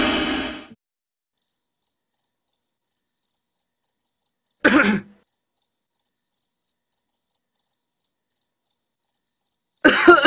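A person in a village coughs three times, with the coughs spaced roughly five seconds apart. The coughs are close and harsh, and faint crickets chirp steadily through the quiet gaps.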